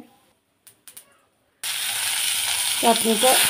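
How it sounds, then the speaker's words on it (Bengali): Dried red chilies and mustard seeds sizzling in hot oil for a chicken and tomato chutney, a sudden loud hiss that keeps going after a few quiet clicks, with a brief voice murmuring near the end. "শুকনো লঙ্কা একটু সর্ষে দিলাম ফোড়ন চাটনিতে"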